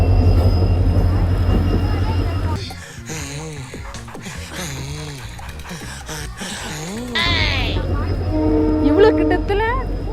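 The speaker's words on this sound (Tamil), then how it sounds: "கண்டிப்பாக மதுரையிலேருந்து வர ட்ரெயின் தான்" A train runs very close by on a track near Madurai, a loud steady rumble of wagons and rattling wheels with a horn-like tone, fading briefly before returning with squealing, while people talk over it.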